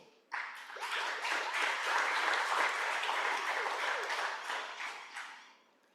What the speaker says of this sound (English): Let's welcome Joe with a round of applause